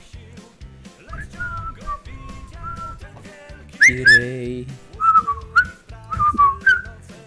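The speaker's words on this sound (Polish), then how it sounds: "Mógłbyś nie gwizdać" A person whistles a wavering, melodic tune in several short phrases, fairly close and clear, over a quiet background during a gaming stream.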